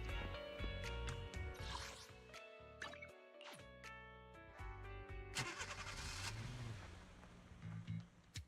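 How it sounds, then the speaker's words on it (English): A video game car pulls up and its engine turns over, with mechanical clicks, a rising motor rumble and some liquid-like drips and rustles, moderately close without speech. "Oh, the car's here."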